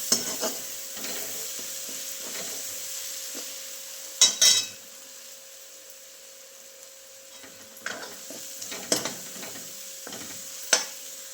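Ground ginger, garlic, coconut and coriander masala paste sautéing in a pan, a low sizzle broken by sharp clinks and scrapes of a spoon against the metal at uneven intervals.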